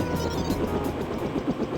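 A helicopter in the Deus Ex video game gives off a steady, close, loud rotor drone with a rhythmic chopping pulse, running unbroken throughout.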